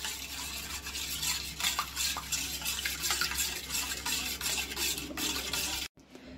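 Sugar powder, milk and butter being mixed in a bowl, a continuous soft scraping and stirring texture with small rhythmic strokes that stops abruptly near the end.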